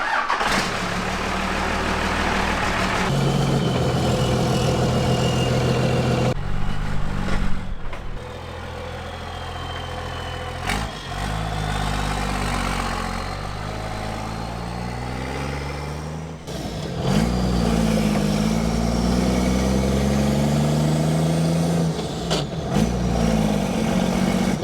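A project car with no sway bar fires up, idles roughly, then pulls away on a test drive, its loud, ragged engine note rising and falling through several revs and shifts, close by with no talk.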